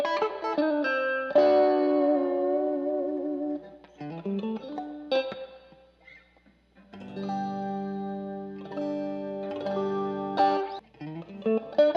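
Electric guitar run through reverb and chorus effects, with sustained chords and single notes ringing out in washy, shimmering phrases, separated by short pauses, with no voices.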